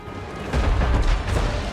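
Arrow volleys in the battle game Total War: Three Kingdoms land as dense crashing, thumping impacts over a low rumbling battle din, with no speech.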